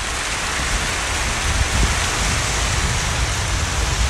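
Steady, dense monsoon rain in Thailand falls heavily, a continuous hiss with low patter, no voices.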